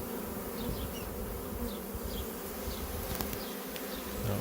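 A honey bee swarm hums steadily as bees are moved off a branch into a hive with frames of comb, a dense continuous buzz with individual bees whining past up close.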